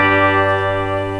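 A 1970 Gibson ES-345 electric guitar rings out a sustained chord with both pickups engaged, full and steady with rich harmonics, alone and fairly loud.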